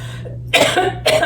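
Two short, sharp coughs close to the mic, the second following about half a second after the first, over a faint low hum.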